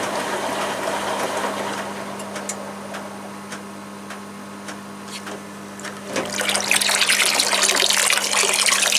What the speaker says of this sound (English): I'm going to siphon it off.